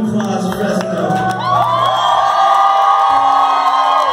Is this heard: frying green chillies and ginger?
no